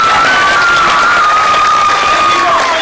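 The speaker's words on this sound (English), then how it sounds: "So please give them a round of applause." Audience applause after a Grade 4 school play at Bolles Lower School's Whitehurst Campus: dense, sustained clapping from a crowd, loud and steady throughout with no break.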